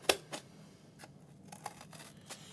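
Scissors snip through craft material to cut out a porcupine shape, a few quiet, sharp cuts spaced unevenly over a couple of seconds.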